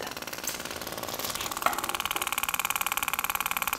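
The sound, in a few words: permanent makeup machine needle running (Vision Machine 2)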